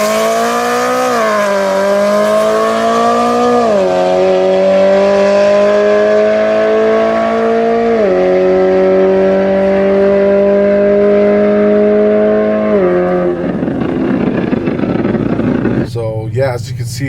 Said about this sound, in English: That's how loud the M3 is